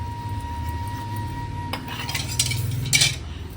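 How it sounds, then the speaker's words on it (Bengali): Small bowls and dishes being scrubbed and washed by hand in a home kitchen. Soft rubbing and scraping builds to sharp clinks of crockery and metal near the end, over a faint steady hum. "এই ছোট ছোট কিছু বাটি টাটি এগুলো সব মেজে মেজে রাখি।"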